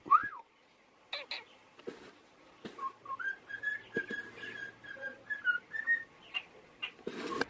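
A pet bird whistles a learned tune in a home man cave, a run of clear melodic whistled notes with a few chirps and clicks, alone in a quiet room.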